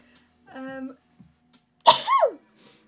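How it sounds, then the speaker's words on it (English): A brief vocal wind-up followed by a single loud, explosive sneeze up close. "I feel a sneeze coming on."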